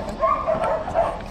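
A dog gives a few short, high yips and whimpering barks outdoors at a dog charity event, close and moderately loud, spaced over a second or so.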